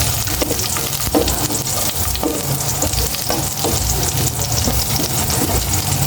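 Onions frying in a pan for adobo, a loud, dense, crackling sizzle that runs throughout with stirring scrapes and occasional knocks, and no speech.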